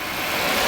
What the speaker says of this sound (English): Set the hand throttle, leave it, it's puttering away.